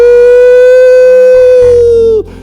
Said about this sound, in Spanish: Y empiezan a sonar las sirenas.